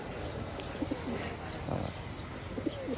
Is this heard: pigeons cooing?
yes